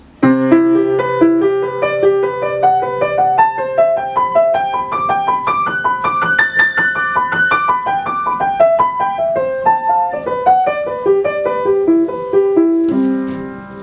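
A jazz chord with a raised eleventh, played on a keyboard, its tones rising in a run up to a peak, then descending, ringing clearly with no talking.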